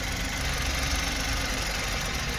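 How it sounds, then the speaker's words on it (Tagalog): Suzuki K6A turbo engine misfiring with injector number 2 unplugged, a close, rough uneven idle with knocking and vibration throughout, alone without talk. "So pumapalya ang makina, ibig sabihin ay nag-response na ang cylinder number 2."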